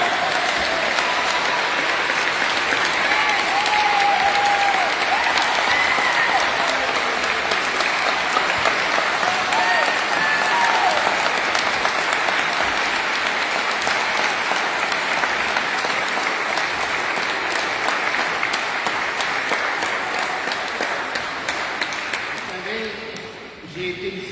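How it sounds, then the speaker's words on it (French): A church congregation applauds at a religious consecration ceremony, sustained dense clapping from a crowd that carries on steadily before tapering off near the end. "on vous demanderait de nous applaudir pour cet engagement que nous avons pris"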